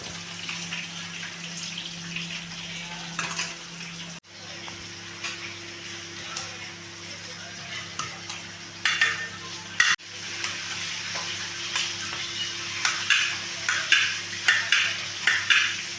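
Fish frying in a pan for a Bengal-style fish curry gives a moderate, continuous sizzle with occasional utensil clicks and pan clatter.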